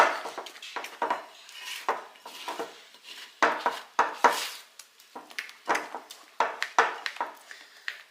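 Lebkuchen dough being mixed in a bowl, a run of irregular scraping and knocking strokes of a utensil against the bowl, close and fairly quiet, with short pauses between strokes.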